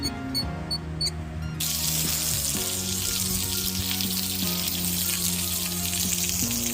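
Steady hiss of water spraying from a hose, continuous and fairly close, with a low tonal hum underneath and no speech.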